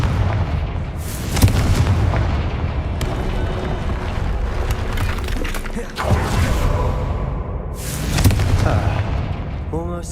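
A Confringo spell blast in Hogwarts Legacy lands as a few loud booming explosions with crackling debris, set over a steady game soundscape with music and no speech.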